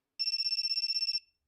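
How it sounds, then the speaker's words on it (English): A loud electronic phone ringtone trills in a rapid, steady pulse of about a dozen quick beeps over roughly one second, then cuts off with a short fading tail. "That's a pretty loud ringtone, if you ask me."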